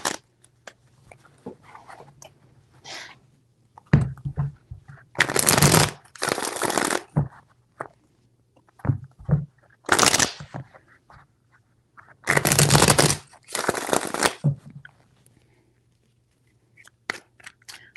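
Tarot cards being shuffled in several bursts, each a loud riffling flurry with short pauses between, with faint handling sounds in the gaps.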